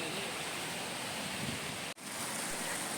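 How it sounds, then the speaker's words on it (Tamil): Water rushes steadily over the Kallanai waterfall near Trichy, a loud, dense, continuous roar that fills the whole stretch, broken only by a split-second dropout. "பாருங்கள் தண்ணி எப்படி குதிச்சு போயிட்டு இருக்குது"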